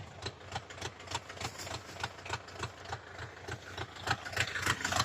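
A small tractor engine idles at low revs while potatoes are dug, a steady close chugging with a regular knocking pulse and light rattle, rising slightly toward the end.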